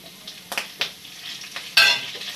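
Curry leaves tempering in hot oil, with a crackling sizzle, a few sharp spoon taps against the pan, and a sudden louder burst of spitting near the end.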